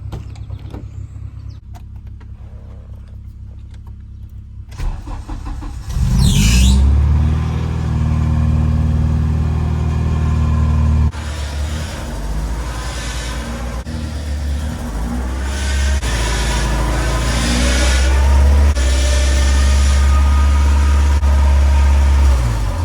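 A Honda Integra DC2 cranks and fires up with a loud burst, then settles into a steady, rough idle and engine rumble as it pulls into a garage, with mechanical clunks along the way.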